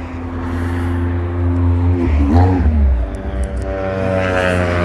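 Loud Porsche motorcycle engines roar past up close, racing by on a street in Germany, pitch rising and falling as they speed by, with a steady mechanical drone underneath.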